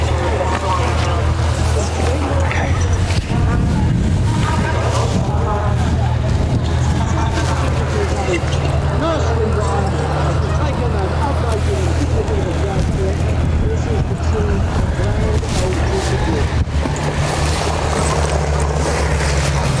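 Aeroplane engines at the White Waltham air show give a loud, continuous droning rumble, with crowd chatter and voices mixed in throughout.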